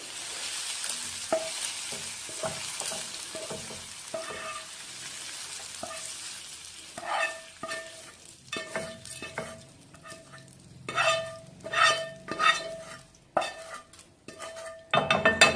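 A spoon scrapes a cooked breakfast mixture out of a pan into a small bowl, with sparse metallic clinks and taps that grow louder and busier toward the end.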